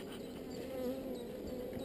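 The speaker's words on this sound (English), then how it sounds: "The hive is absolutely alive with bees." A dense, steady hum of many honey bees buzzing together up close in an open hive, a continuous low drone with small fluctuations.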